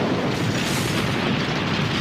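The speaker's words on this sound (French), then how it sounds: "Ah mais la Terre explose." A loud, continuous explosive roar of the Earth blowing up in the video game Les Zinzins de l'Espace, a dense rumbling blast sustained without letup for two seconds.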